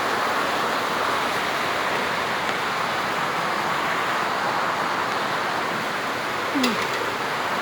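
Heavy storm rain pours down with floodwater around a house, forming a loud, steady, close hiss and roar that barely changes, with a brief faint vocal sound near the end.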